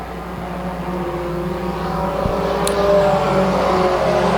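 4-cylinder pro race cars running side by side into a turn at Bracketts Market, a steady distant engine drone that swells slightly as they pass, with no talk over it.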